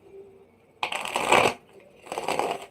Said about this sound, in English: I'm going to go ahead and shuffle these cards up.